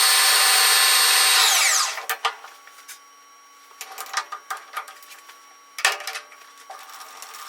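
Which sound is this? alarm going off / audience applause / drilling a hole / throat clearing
drilling a hole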